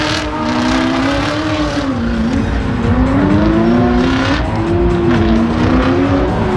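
A race car at a speed festival on an airfield revs hard, its engine pitch rising and falling in loud sustained waves as the tyres spin, close and continuous with no talk.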